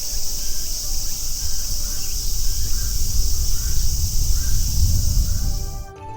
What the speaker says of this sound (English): every park sounds like this